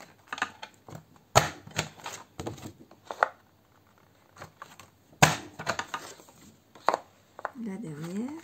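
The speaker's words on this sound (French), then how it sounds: "Je fais mes petites encoches." A 1-2-3 Punch Board cuts notches into paper, giving sharp close snaps and clicks at an irregular pace, with soft rustling between punches and quiet talking in places.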